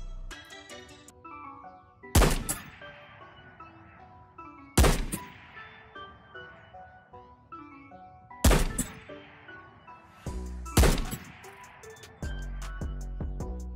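Shotgun slug shots in Ghosts of Tabor: four loud, sharp single blasts spaced a few seconds apart, each trailing off with a clattering echo, among quieter mechanical clicks and handling sounds.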